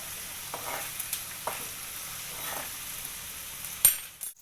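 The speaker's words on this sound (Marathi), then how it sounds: "आणि चांगलं हे मिक्स करून घ्यायचं कांदा टॅमॅटो पैकी असा ब्राऊन होईपर्यंत त्याला ढवळायचा आहे" Onion and tomato sizzle softly in a pan while a spoon stirs them in repeated scraping strokes, ending with a brief metallic clink against the pan's edge.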